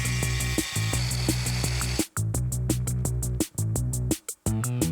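A grinder cuts a notch into a tile, a steady close motor whine broken by short repeated cutting bursts and brief pauses throughout.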